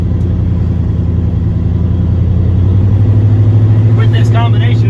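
A turbo LS-swapped Caravan van drives along with a loud, steady engine drone that deepens and strengthens partway through, while a voice is briefly heard over it near the end.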